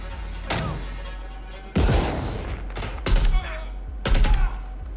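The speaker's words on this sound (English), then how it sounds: "The thud of the guns" Heavy video game gunfire from a Call of Duty Modern Warfare 2 trailer: several loud, booming bursts and thuds that come in separate clusters, with dense cinematic rumble and effects filling the gaps between them.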